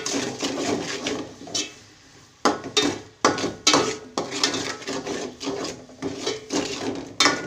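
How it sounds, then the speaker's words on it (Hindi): Rice pulao stirred in a pot with green chillies and salt, a steady scraping and rubbing of a spoon against the pot in repeated strokes, close up with no talk. "सबको अच्छी तरह मिक्स करा"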